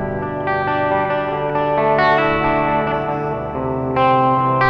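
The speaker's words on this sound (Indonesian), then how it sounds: "sekarang clean lu udah ada reverbnya tanpa delay" Clean electric guitar played through a Vox SL2G multi-effects unit with reverb and no delay, sustained chords ringing out with a lush, shimmering tail, loud and close with no talking.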